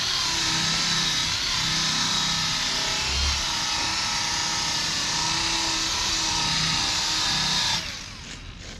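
A small 3-inch rotary polisher buffs wet-sanded BMW paint with a steady, loud, close motor whine that holds constant for about eight seconds, then cuts off and winds down at the end.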